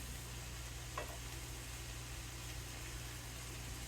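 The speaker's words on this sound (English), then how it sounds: "I put it in once, flip it over to get oil on both sides" A tortilla fries in hot oil for tacos, giving a steady, faint sizzle that holds evenly from start to finish over a low background hum, with no voices.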